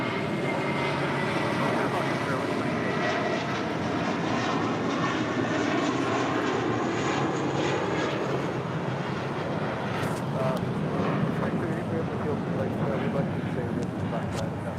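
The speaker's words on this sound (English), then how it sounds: "2880 taking off to Newark on an A320." An Airbus A320 jet takes off at LAX, its engines producing a continuous loud roar that holds steady throughout, with people talking over it.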